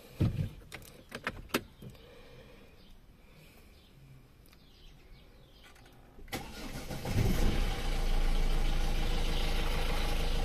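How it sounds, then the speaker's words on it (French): A few clicks and clunks, then a car's 1.6 HDi diesel engine with leaking injectors cranks and catches, settling into a steady, close idle hum. "donc je vais démarrer le véhicule."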